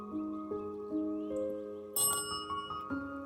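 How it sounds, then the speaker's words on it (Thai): A tarot fortune teller presses a call bell during a card reading, giving one bright, ringing ding partway through while soft sustained tones play beneath it. "ทำไมแม่หมอถึงกดกระดิ่ง"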